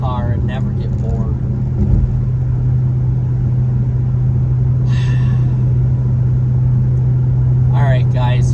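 Chrysler 300C SRT8 cruising on the road, a steady loud low engine and road drone throughout, with a person talking intermittently over it near the start and end.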